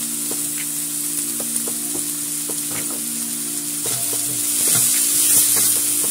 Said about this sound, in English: So just stir fry this on low heat.